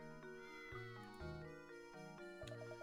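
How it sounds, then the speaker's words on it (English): A cat meows in the Professor Layton and the Curious Village video game, a few tonal, pitch-bending cries over soft game music, quiet and close, with no talking. "What's this cat doing here?"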